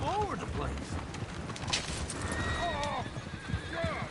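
Horses neighing and whinnying with hoof clip-clops in Red Dead Redemption 2, several loud close whinnies over galloping hooves, mixed with people talking.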